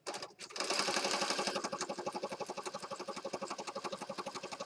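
A sewing machine runs steadily and close up, its needle thumping in a fast, even rhythm after a brief start, the pulsing getting more pronounced toward the end.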